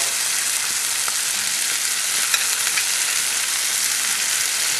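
Chickpeas and black beans sautéing in oil with garlic and shallot, a continuous close, loud sizzle with fine crackling throughout and no voices.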